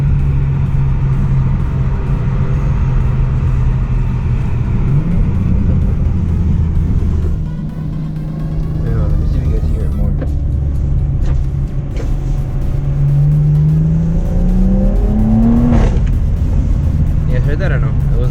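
A BMW 340i with the B58 engine, a muffler delete and forged carbon tips revs loudly with the valve open in sport mode, its exhaust drone climbing and falling through upshifts in traffic, with occasional talk over it.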